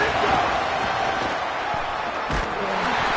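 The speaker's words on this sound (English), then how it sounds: "This crowd ready to make its presence known." A stadium crowd roars continuously in a Washington versus Penn State college football video game, a dense, loud wash of cheering throughout with commentary mixed in.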